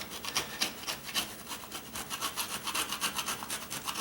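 A chisel scraping up old linoleum flooring in steady, rapid back-and-forth rasping strokes, close and fairly loud, with no talk.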